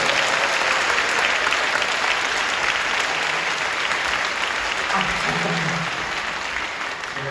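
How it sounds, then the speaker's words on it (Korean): A church congregation at Incheon Full Gospel Church applauds to welcome Pastor Son Kyung-min and his wife at a praise concert, loud continuous clapping with a brief voice emerging toward the end. "여러분들 박수로 환영해 주시기"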